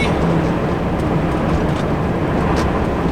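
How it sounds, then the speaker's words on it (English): A Volvo FH 460 Globetrotter truck with its exhaust brake engaged at level 3 gives a loud, constant low rumbling drone from the cab, steady and unbroken throughout with no one speaking. "Exhaust brake, level 3"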